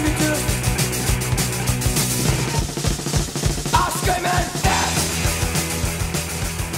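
Punk rock song, fast driving guitars and pounding drums, loud and dense throughout with a yelled vocal edge.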